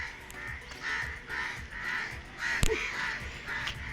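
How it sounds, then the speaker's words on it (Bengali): Several crows perched along a line caw repeatedly, a chorus of harsh calls at moderate distance with one louder, closer caw standing out, over steady outdoor background noise. "এখানে কাকেদের মিটিং হচ্ছে এই লাইন বরাবর কাক বসে আছে"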